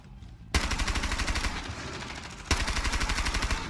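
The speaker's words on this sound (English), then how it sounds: "I'm getting shot." Rapid automatic gunfire in Rainbow Six Siege rattles loud and close in two long sustained bursts, the second starting after a brief break, with no talk over it.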